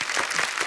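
Studio audience at a Hindi TV chat show breaks into a brief, dense burst of applause to welcome guests, steady and fairly loud, with no voices.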